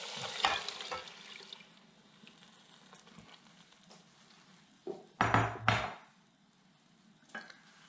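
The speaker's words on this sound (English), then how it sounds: "And I'm going to add some veggie broth." Vegetable broth poured into a hot soup pot for Scottish tattie soup, soft sizzle and clatter with a burst of pouring and splashing midway, fairly quiet overall, no speech.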